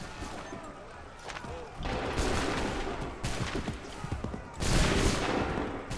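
Musket volleys fired on shouted command in a battle, heavy bursts of gunfire crashing in several waves, loud and close, with a commander's voice calling orders between them.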